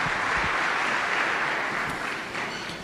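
A church congregation applauds in acclamation during a sermon, a dense, steady crowd clapping that holds loud throughout and tapers slightly toward the end.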